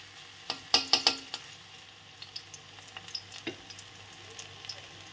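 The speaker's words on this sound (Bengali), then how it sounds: "পকোড়াগুলো সুন্দর করে ভাজতে থাকবো" Roasted eggplant pakoras frying in hot oil, a steady soft sizzle with a few louder crackling spatters early on, close and alone with no voices.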